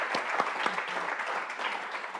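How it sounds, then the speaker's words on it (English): A conference audience applauding in a hall, a short burst of scattered clapping at moderate distance, fairly even throughout with no voices over it. "big round of applause for Lisa"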